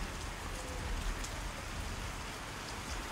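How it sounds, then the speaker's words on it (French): Heavy rain falls steadily through the night on a Himalayan climb of Annapurna, a dense, constant hiss of drops without pause, close and even throughout with no voices. "Toute la nuit il pleut."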